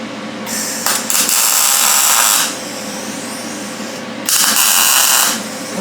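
Short MIG welding tacks on scrap metal with 75-25 shielding gas and 30-thousandths wire, two loud buzzing, crackling bursts of about two seconds each, separated by a lower background hum.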